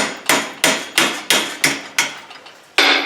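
A hammer strikes metal clamped in a vise during blacksmith forging of a wreath hook, landing seven sharp, ringing blows at a steady rhythm with a brief pause before the last one.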